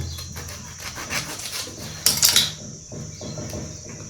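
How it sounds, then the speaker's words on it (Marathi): A kitchen knife slicing through a fresh lemon, a short crisp cut with a bright squelch and light clatter on a hard surface, heard close up over quiet room tone. "आता लिंबू आपण आता कापून घेऊया"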